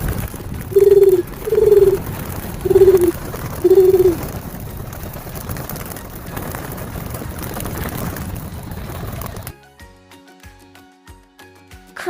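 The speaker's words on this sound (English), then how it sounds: "Dove." A dove coos four times in a low, hollow rhythm over a steady background hum; the scene then cuts abruptly to a quieter, different sound.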